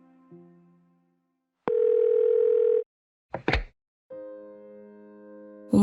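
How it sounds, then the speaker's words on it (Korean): A telephone call to a mother sounds through the handset as a series of steady electronic tones, each held for about a second with short gaps and clicks between them. "엄마에게 전화를 걸었다"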